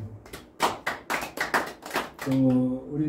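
Audience clapping at an academic presentation, a run of sharp, separate claps in an uneven rhythm, fairly close, ending as a voice begins speaking.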